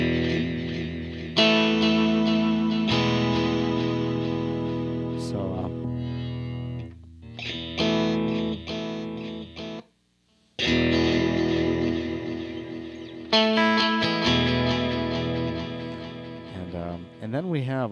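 TC Electronic 2290 delay effect running through shifting modulation waveforms such as sine and random, with warbling, pitch-wavering tones that cut in and out in bursts, loud and close, with a brief gap near the middle.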